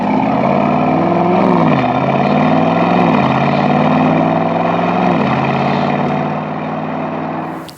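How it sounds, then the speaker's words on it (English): A V8 biturbo exhaust on a 2024 Mercedes-AMG SL 63 roadster rumbles loudly and steadily near the microphone, rising briefly in a few short revs before settling back to a deep idle that fades slightly at the end. "This exhaust, it sounds really, really nice. Of course it does. It's a V8 biturbo."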